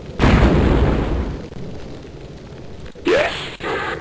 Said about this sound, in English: these mine throwers can start working on the cave. As you can see, in a few shots